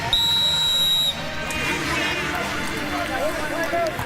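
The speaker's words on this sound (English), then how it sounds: "This should be the final play before the 3-minute whistle." A referee's whistle at a Canadian football game gives one sharp, shrill blast lasting about a second, followed by crowd murmur and field noise.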